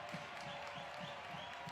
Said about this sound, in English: Crowd fired up here at Starfire as the Sounders take a 2-1 lead